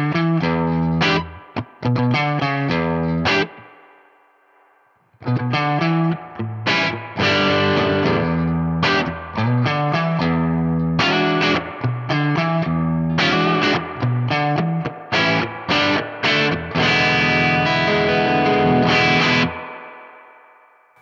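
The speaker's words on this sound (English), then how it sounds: "That's kind of cool, like a clanky spring." Electric guitar played through the spring reverb variation of a Boss Katana-Head MKII amp, loud distorted chords and riffs with a clanky, splashy reverb tail, a brief pause early on and a decaying ring at the end.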